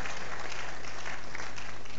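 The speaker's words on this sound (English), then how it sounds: "Please, let's put our hands together for him." An audience at a live event claps steadily for a couple of seconds, a dense continuous patter of hands over a low hum.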